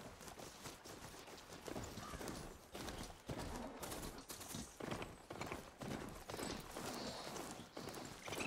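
Horse hooves in the video game Horizon Forbidden West clip-clop in a steady galloping rhythm, loud and close, for the whole stretch with no talk over them.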